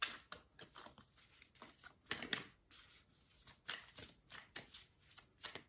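Tarot cards are handled and laid down on a table, making a quiet, irregular series of soft slaps, flicks and taps close by.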